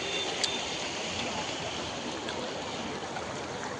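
Floodwater rushing across a submerged road in Hailakandi during the 2025 floods, a steady broadband roar of flowing water heard continuously and fairly close.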